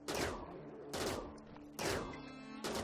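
Weapons fire at insect hives in the video game Rimworld as four quick bursts of gunfire, evenly spaced, each a sharp crack with a short decaying tail.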